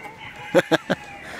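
A chicken gives three short, fairly loud clucks in quick succession against a quiet farmyard background.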